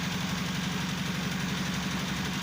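A generator runs at a motorcycle repair workshop, a steady close droning engine hum with a constant low throbbing rhythm and no speech.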